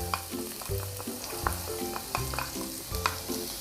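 Minced garlic stir-frying in hot sesame oil, a faint continuous sizzle with rhythmic scraping and tapping of a utensil stirring the pan, heard close up and quietly.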